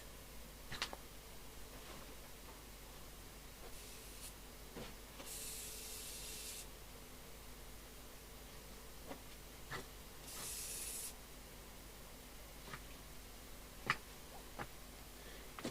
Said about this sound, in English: I'll just get up and do the fly spray.